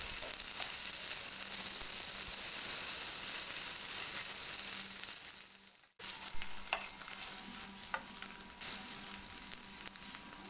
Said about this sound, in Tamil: வெளியில் எடுத்து வச்சுருக்க சாசேஜை இந்த எண்ணெயில் போட்டு ஃப்ரை பண்ணணும்.